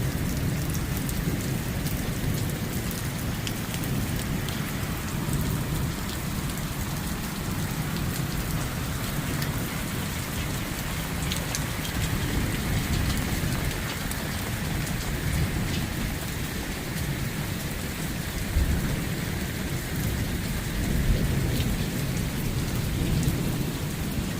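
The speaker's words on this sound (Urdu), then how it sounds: "کانسٹنٹ بارش، کانسٹنٹ قسم کی لائٹنگ ہے" Heavy, constant rain pours down during a 2 am cloudburst in Pothwar, a loud, dense, unbroken roar of drops with a low rumble of thunder beneath it and no voices.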